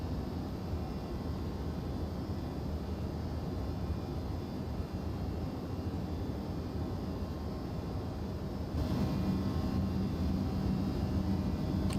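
In X-Plane 12, an Air Canada airliner climbs out of Edmonton with a steady, broadband engine roar that holds evenly, then swells slightly louder toward the end, with no voices over it.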